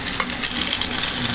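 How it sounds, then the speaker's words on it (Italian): Potatoes and eggs for a frittata fry in hot oil, a steady bright sizzle with small crackles and pops throughout. "Adesso buttiamo le patate e le uova dentro l'olio caldo."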